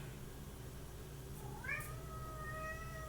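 A single short meow from a cat rising and then holding, fairly faint, over quiet background noise.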